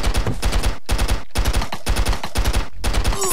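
Rapid, continuous AK-47 fire in the video game Stick Arena Dimensions, loud bursts of shots separated by brief pauses, filling the whole span with no talk.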